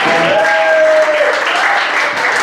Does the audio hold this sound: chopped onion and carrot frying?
no